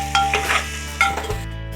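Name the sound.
stirring spices and salt together in a cooking pot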